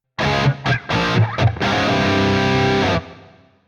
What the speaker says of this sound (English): it's going to sound like we're in a much smaller space with a shorter reverb tail